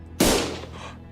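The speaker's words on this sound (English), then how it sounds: "Gunfire filled my ears." A single sharp gunshot from the video game Limbus Company cracks out suddenly and loud, then its echo trails off slowly over about a second with no voices.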